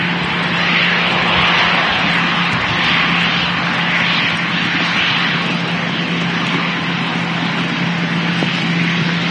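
EasyJet airliner landing at Manchester Airport, a loud continuous jet engine roar holding steady for several seconds, with no talking.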